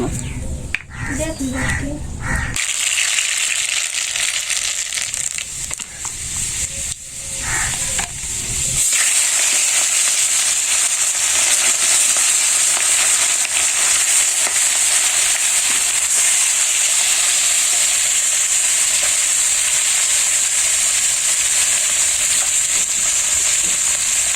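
Mustard seed tempering hisses and sizzles in hot oil with fish. It starts with some choppy, uneven sounds, then settles into a loud, continuous sizzle.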